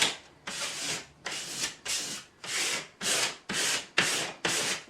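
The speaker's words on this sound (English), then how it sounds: "Rubbing with plenty of pressure so that you've got it warmed up and the adhesive is warm and sticky and adhering well to your wall" Vinyl decal rubbed firmly onto a wall, eight rhythmic broad scraping strokes, each swelling then stopping, close and distinct with short gaps between.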